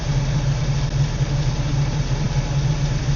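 A 1968 Pontiac Firebird with a 500 hp engine idles at about 930 RPM, a steady, loud, low throbbing rumble with an even lope, heard close and alone.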